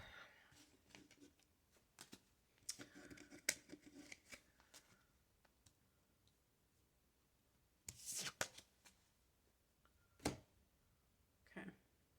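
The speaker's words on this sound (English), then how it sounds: "I'm going to collect all these cards" Tarot cards gathered up and shuffled by hand, heard as scattered soft riffles and flutters with a few louder snapping bursts, fairly close and quiet, with no talking.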